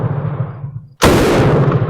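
Single shot from a semi-automatic Bren gun fitted with a new slide hammer assembly on a Mk3 lower receiver, a loud, sudden blast following a low rumble, close and alone.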